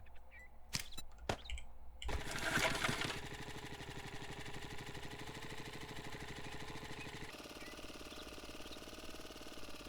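A supercharged vehicle engine in the 7 Days to Die video game revs up after a few clicks, then settles into a steady, buzzing mid-pitched drone that continues evenly to the end.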